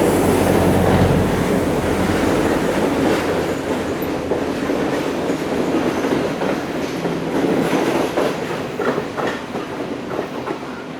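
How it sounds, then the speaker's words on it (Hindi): A Sri Lanka Railways train rolls into a station platform: loud, continuous rumble and rushing noise with rhythmic wheel clatter building near the end, heard up close for the whole stretch with no talking. "वो प्लेटफॉर्म नंबर 5 पे आके रुक गई गाल जाने वाली ट्रेन"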